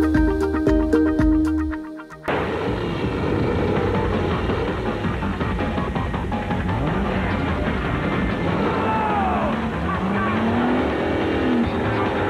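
The Batmobile in a movie scene roars past, with its engine, tire noise and skidding rushing by over steady road noise, after a short burst of music at the start.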